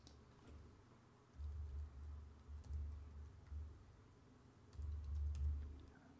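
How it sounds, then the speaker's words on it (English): Soft computer keyboard typing in short clusters of quiet key taps, close and faint, separated by brief pauses. "type in Namecheap.com in the address bar"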